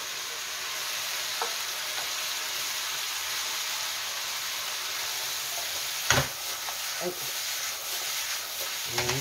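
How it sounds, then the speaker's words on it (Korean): Vegetables hiss and sizzle steadily in a hot pan for jjajangmyeon. A few scraping stirs and clanks rise above the constant frying sound. "앞뒤 옆면이 다 익었을 때 채소를 몽땅 넣고 익혀주세요"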